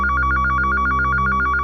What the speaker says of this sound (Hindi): सही समय पे फोन आ गया